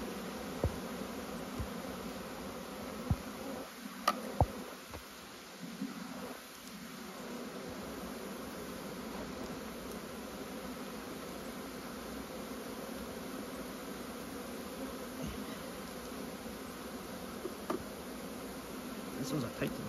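Honey bees buzz steadily around an opened beehive during a hive inspection in Canada, a continuous close, dense hum with a few brief louder passes near the listener.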